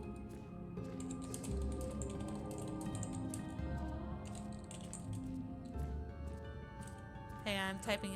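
Typing on a computer keyboard during a Final Fantasy XIV session, light rapid key clicks in uneven bursts under game music and a talking voice.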